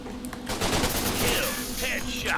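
Sustained gunfire during a Line of Sight online shooter match, a dense rattling burst of rapid shots running through the whole moment, loud and close, with a few faint distant zips on top.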